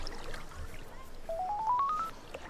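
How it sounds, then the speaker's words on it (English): A phone ringtone plays a short rising run of electronic tones, fairly faint over a quiet room background. "Phone."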